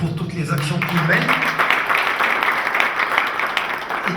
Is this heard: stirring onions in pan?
no